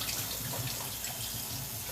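Hot water runs steadily from a tap into a sink during dishwashing, a continuous close splashing hiss with no pauses.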